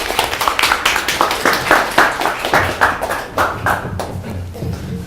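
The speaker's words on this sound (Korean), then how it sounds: "박수로 맞이하겠습니다." A small studio audience claps in brisk, uneven applause to welcome a guest, steady and close, slowly thinning toward the end.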